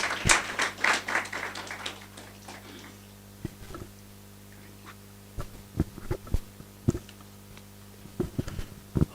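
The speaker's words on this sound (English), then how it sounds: "clap for our Vice Chancellor as he comes to give us his address" An audience at an international interdisciplinary conference at the University of Eldoret claps for the arriving Vice Chancellor, a loud burst of applause in a large hall that thins after a few seconds into scattered single claps.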